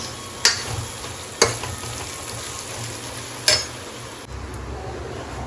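Kadhi being cooked in a pan, with a few sharp clinks of a utensil and a steady low bubbling simmer underneath rather than a strong tadka sizzle.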